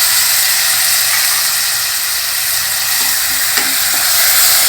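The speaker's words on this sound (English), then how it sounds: "Cook the tomatoes till they are nice and soft." Tomatoes with turmeric, chili powder, coriander powder and salt cook in a pan with a loud, dense hiss and sizzle, a few spatula knocks near the end.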